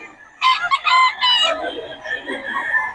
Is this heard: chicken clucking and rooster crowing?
yes